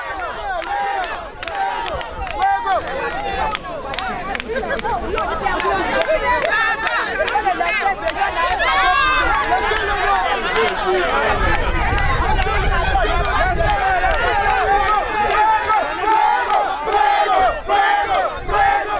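A large crowd at a polling station in Zongo, Benin, chants slogans in unison to welcome President Talon, a dense, loud roar of massed voices with cheering that swells steadily and continues throughout.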